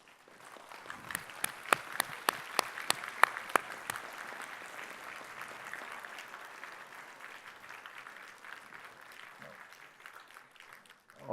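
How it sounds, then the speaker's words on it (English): Audience at a Newcastle University Medicine Malaysia graduation ceremony gives a round of applause for the graduates' supporters, opening with a few sharp distinct claps that quickly merge into steady, moderately loud clapping that gradually fades. "show your appreciation for your supporters by giving them a round of applause"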